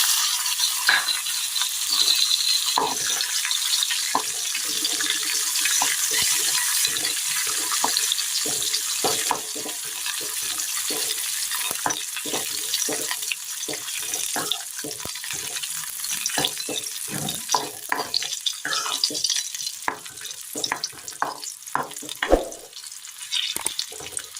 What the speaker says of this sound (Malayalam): ഈ എണ്ണയിലേക്ക് നമുക്ക് മുന്തിരി ഇട്ട് കൊടുക്കാം